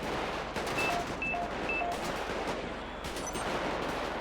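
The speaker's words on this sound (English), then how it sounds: "shots fired" Gunshots ring out during a sheriff patrol shootout in GTA V, with a steady run of sharp reports and automatic fire, fairly close and loud throughout.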